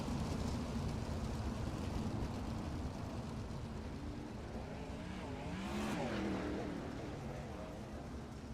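Sprint cars race around the dirt oval at Weedsport, their engines a dense, continuous roar that swells as a car passes close, with crowd and track noise mixed in and no talk.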